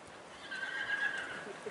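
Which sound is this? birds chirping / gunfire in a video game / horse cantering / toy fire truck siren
horse cantering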